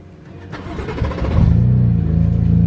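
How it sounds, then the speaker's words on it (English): Car engines crank and catch, then rev into a loud, steady low rumble that builds and holds close by. "we're about to start up all the cars."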